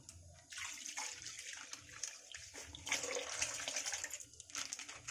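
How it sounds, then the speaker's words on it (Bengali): Water pours into an iron wok with a rushing, splashing flow that swells and thins over several seconds, close and fairly steady. "এই জল দিয়ে দিয়েছে"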